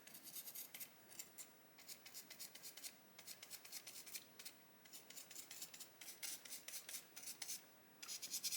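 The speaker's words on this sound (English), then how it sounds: "we can just keep brushing until that super glue disappears" Fiberglass brush scrubbing super glue off a brass surface, with quiet rapid rhythmic scratchy strokes repeating in short bursts, close and faint.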